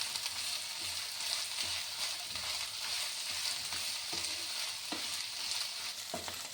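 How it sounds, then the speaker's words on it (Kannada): Mixed vegetables for paneer fried rice, including beans, fry in a pan with a continuous loud hiss and occasional scrape of stirring, nothing spoken over it. "ಆ ತರಕಾರಿಗಳನ್ನೆಲ್ಲ ಹಾಕಿ ಚೆನ್ನಾಗಿ ಫ್ರೈ ಮಾಡ್ತೀನಿ"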